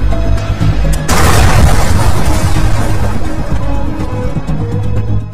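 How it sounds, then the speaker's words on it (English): A bunker buster bomb impact sound effect: a sudden heavy boom and crashing burst that rumbles on as a dense, loud roar of debris and low rumble. "Once it hits the ground, the bunker buster pierces straight through the hardened surface."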